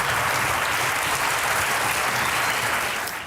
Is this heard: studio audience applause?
yes